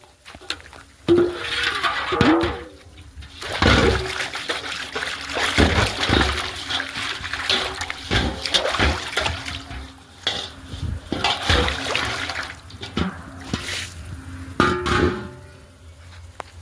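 Water sloshes and splashes in bursts as a household water tank is scrubbed and rinsed with a metal basin, with occasional hollow knocks and trickling between the splashes.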